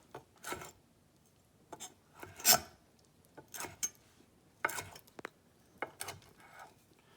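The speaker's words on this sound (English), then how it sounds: "I'm going to chop them all up into half-inch, inch-long pieces" Peeled shrimp being chopped into half-inch pieces with a knife on a board, a series of sparse, short cutting knocks and scrapes at an uneven pace with quiet gaps between them.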